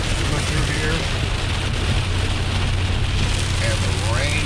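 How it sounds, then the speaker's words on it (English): Heavy rain pours steadily onto a flooding lawn amid strong winds, a dense, loud hiss filling the whole stretch with some faint background sounds mixed in. "the rain is just going to continue"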